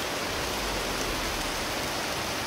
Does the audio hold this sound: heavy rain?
yes